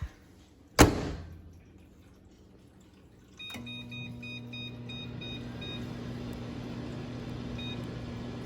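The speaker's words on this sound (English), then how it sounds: "I'm gonna put it in here for the microwave." A sharp microwave oven door clack, then a few quiet beeps as buttons are pressed, followed by a steady low hum that runs on.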